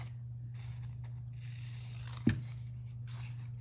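Scissors snip through paper once, a short crisp cut over a steady low hum in a quiet room.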